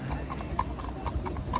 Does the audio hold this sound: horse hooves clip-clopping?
yes